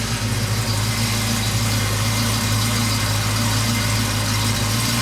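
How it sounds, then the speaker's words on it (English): A 1991 Ford Mustang GT Foxbody with its high-output 302 5.0-liter V8 idles steadily, a close, even, low throbbing hum heard alone for several seconds. "let me step out here and we'll listen to that nice high output V8 302 5-liter"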